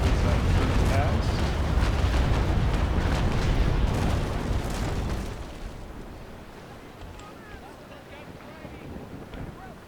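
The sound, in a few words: ship cannon broadside firing in video game Naval Action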